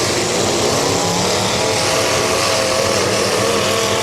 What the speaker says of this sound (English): we can hear that roar of the engine off the number 583, which is Jacob Gilliam